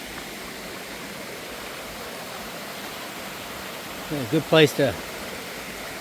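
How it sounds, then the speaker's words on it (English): Steady broadband rush of a stream along the Appalachian Trail, flowing continuously throughout, with a person speaking briefly near the end. "Just ran out of water, so we hit a stream."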